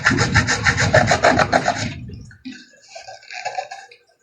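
A hand saw cuts the thin casing of a solar flood light with quick, rhythmic rasping strokes for about two seconds, followed by lighter scraping and rubbing sounds, close by.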